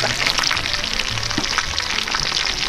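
Diskata sizzles steadily on an SW Disks outdoor disk cooker, a close, continuous frying hiss with no pauses and no voices.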